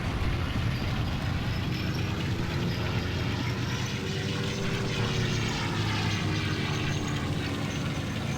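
A propeller aircraft engine in the Forgotten Hope 2 video game, set on Peleliu, gives a loud, steady droning roar that holds throughout with no break.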